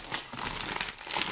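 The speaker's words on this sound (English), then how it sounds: "Pardon the crinkling while we get that situated." A plastic bag of Lego parts crinkles and rustles as it is shaken out, a loud, close, continuous crackling throughout.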